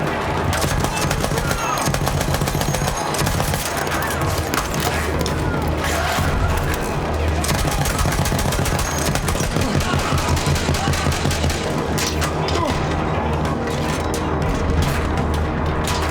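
Constant loud gunfire fills a Battlefield 1 battle fought on the Allied side with Russian and German weapons: rapid machine-gun bursts and overlapping rifle shots blend into a dense, unbroken barrage with heavy booms mixed in.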